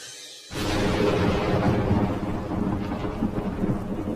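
A cartoon thunderstorm bursts in after a short quiet moment, with a loud rumble of thunder over dense, steady rain that keeps going.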